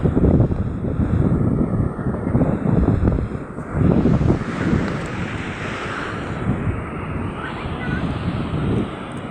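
Strong gusts of wind buffet the microphone in uneven surges on Napsan beach, with a faint wash of surf in the background.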